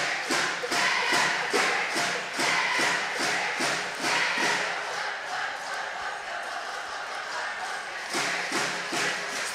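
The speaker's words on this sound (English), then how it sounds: "The Bear fans are much louder than the Ravens right now." Crowd of Bears fans cheering and clapping at a high school basketball championship game, the Coal Bowl, with loud sustained noise and rhythmic stamping or clapping bursts filling the gym throughout.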